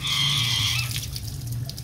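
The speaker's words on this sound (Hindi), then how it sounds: "ये देखिए अब पानी बिल्कुल नीचे गिर रहा है" Water pours down out of a pipe during home repair work, a loud close gushing and splashing stream with a rushing tone that settles into a steadier trickling flow.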